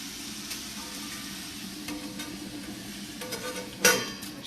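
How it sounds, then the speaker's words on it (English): Green peppers, green chilies, ginger, coriander and tomato sizzle steadily in hot oil in a pan, with a soft continuous fry, light stirring and a sharp utensil clink near the end. "And I added little oil and I'm just sauteing this."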